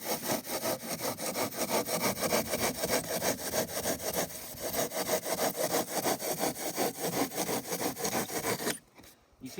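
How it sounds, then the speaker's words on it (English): A pruning saw cutting through the EPS foam of an ICF foundation block, rapid rhythmic back-and-forth rasping strokes, close and loud, running steadily before stopping briefly near the end. "simply just use the pruning saw and"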